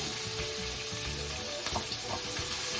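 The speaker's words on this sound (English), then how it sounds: "So I put the onions in." Onions sizzle steadily in a hot pot, frying to soften for a potato, spinach and shrimp pie filling, with a dense continuous crackle and occasional louder pops and utensil scrapes, close and alone.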